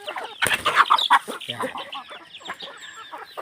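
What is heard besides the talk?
chickens clucking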